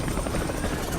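A helicopter effect from the Steven Universe cartoon, a steady loud rotor buzz that fills the whole second with no voices over it.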